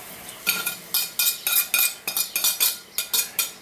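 A spoon works mole poblano paste into broth in a pot, making a quick run of sharp metallic scrapes and taps at an uneven rhythm, close and fairly loud.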